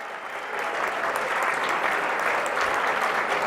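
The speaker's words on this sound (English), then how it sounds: "could I have a warm round of applause for our Da Vinci wizard himself, Mr. Cesare Casella" A gala audience at The Center for Discovery gives a warm round of applause, a dense, steady wash of clapping from a large crowd that swells slightly and carries on without pause.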